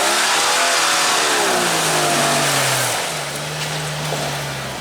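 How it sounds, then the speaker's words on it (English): A Toyota off-road vehicle's engine revs hard and then settles to a lower drone while pulling a Jeep out of a winter forest mud pit, loud and close, with some broadband splashing or rushing noise mixed in and no talking. "The Toyota's pulling out the Jeep."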